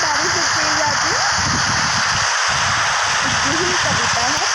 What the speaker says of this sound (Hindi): ऐसी आवाज़ आती है, बारिश जब तेज आती है।